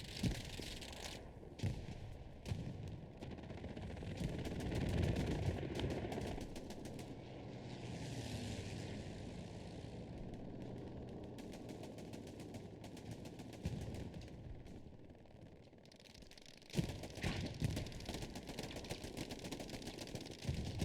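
Dense, crackling small-arms and machine-gun fire from the Hell Let Loose battlefield shooter rattles on for about twenty seconds, mostly at a distance, with bursts of closer shots and a muffled voice faintly underneath.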